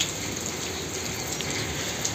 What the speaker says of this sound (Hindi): हर थोड़े देर पे बारिश।